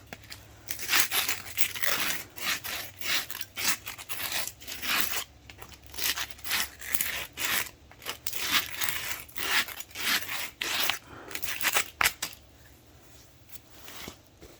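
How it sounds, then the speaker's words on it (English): Sandpaper scraping over the end of a homemade deep drop fishing weight, a run of close, rough rasping strokes in an uneven rhythm with no talking. "throw some sandpaper over the end of it"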